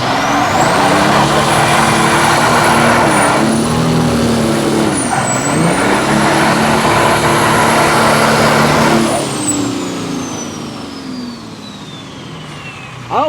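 A 2019 Ram Rebel with a manual gearbox and a compound-turbo Cummins diesel swap revs loud and close, the engine note rising and falling with a high turbo whine above it, then easing back toward idle.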